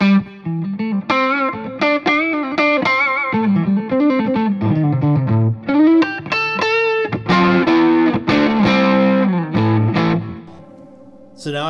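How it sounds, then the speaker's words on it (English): Electric guitar through a Fuchs Plush tube amplifier with overdriven, distorted tone plays a run of chords and notes, loud and upfront, ending on a sustained ringing note. "I can lay into it and get some distortion out of it."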